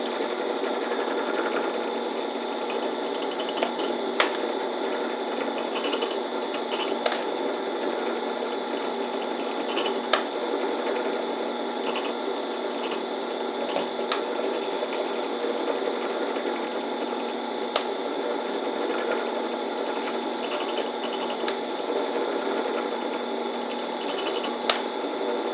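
A drill press at 620 RPM hums steadily close by while sharp metallic clicks punctuate it every few seconds as brass shell cases are decapped.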